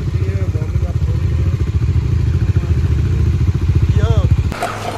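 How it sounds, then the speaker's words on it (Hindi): Motorcycle engines idle and warm up after starting on a hill road between Nainital and Neem Karoli Dham, a steady close low chugging throughout with talk over it and a brief clatter at the end. "तो बाइकों का स्टार्ट हो चुका है वार्म अप।"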